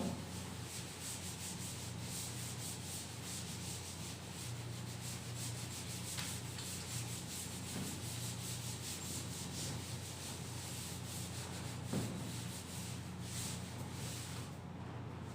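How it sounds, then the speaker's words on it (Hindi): A board in a maths class is wiped clean of writing, giving a faint, continuous rubbing swish that keeps going for the whole stretch, with no voices. "ठीक है, चलिए अब इसको मैं रब कर दे रहा हूं।"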